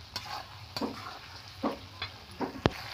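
Potatoes with flat beans and eggplant frying in a pan for a vegetarian curry, stirred with a spatula; close scraping strokes every half second or so over a constant sizzle, ending in a sharp utensil knock, no talking.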